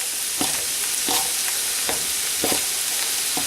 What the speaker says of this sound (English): And we're going to let them saute.